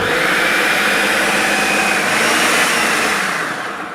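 A Miyako food processor runs loud and close with a steady high-pitched motor whine that swells slightly midway, then begins to wind down toward the end.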